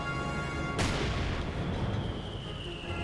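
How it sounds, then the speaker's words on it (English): Mortar fire in Company of Heroes 2 lands as a sudden heavy boom over a constant battlefield rumble, with a long roaring decay and a thin high whine trailing afterward. "another hit there from Chipper's mortars"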